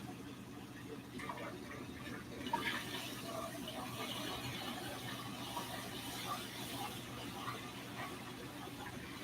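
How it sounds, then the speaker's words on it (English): Water is poured into a from-scratch gumbo roux, a soft continuous running and splashing wash at low level that keeps going for about nine seconds with no voices over it. "we're going to go ahead and just add the water to our roux"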